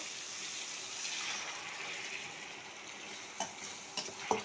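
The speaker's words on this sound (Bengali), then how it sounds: "এখন হালকা একটু পানি দিয়ে দিব" A spice paste frying in a pan hisses steadily as a little water goes in, with scraping stirs and a few sharp clinks of a utensil against the pot near the end.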